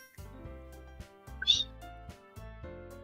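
A cartoon cat in the Doki Doki Literature Club video game gives a single short meow midway, faint against soft, repeating game music.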